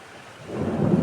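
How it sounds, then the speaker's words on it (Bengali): Thunder rolls up from quiet into a deep, swelling rumble over heavy rain falling outside during a storm, growing louder through the short stretch. "অনেক শব্দ হচ্ছে বিদ্যুতের আর প্রচুর বৃষ্টি বাহিরে"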